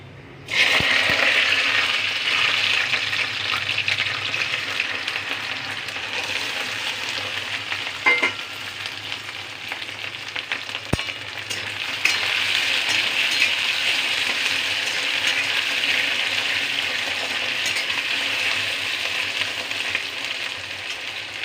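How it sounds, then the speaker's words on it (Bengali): Taro pieces frying in hot oil with black cumin, a loud, continuous close sizzle that holds steady for over twenty seconds, broken by a few faint clicks of a utensil and no talking. "কচুটা একটু একটু ভাজা ভাজা হবে"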